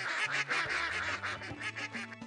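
Baby ducks in the Putt Putt cartoon video game quack back in a rapid, overlapping series of nasal calls over light game music.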